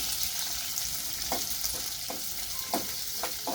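Onions and green chillies fry in a pan for mango rice, a steady hiss of sizzling oil running throughout with a few soft scraping stirs of a spatula.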